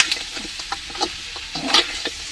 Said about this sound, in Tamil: இஞ்சி பூண்டு பேஸ்ட் வந்துட்டு போட்டிருக்கோம்ல, ஸோ அதோட வாசம் போகிற வரைக்கும் நம்ம வதக்கிட்டுருக்கோம்.